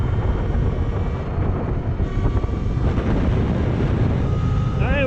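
A Talaria Sting electric dirt bike ridden at full throttle into a headwind gives a steady, loud roar of rushing wind, with a faint motor whine rising near the end.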